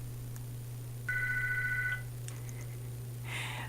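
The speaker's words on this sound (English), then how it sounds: "The phone won't stop ringing." Telephone ringing, a single warbling ring burst of about a second over a steady low electrical hum, followed by faint clicks and a brief rustle.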